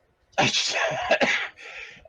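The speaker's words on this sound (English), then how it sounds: "don't worry about the coughing" A burst of harsh, close allergy coughing, a couple of rough hacks running together, then a softer trailing cough.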